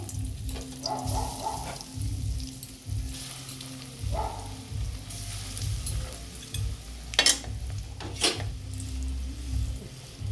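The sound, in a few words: vegetable balls frying in hot oil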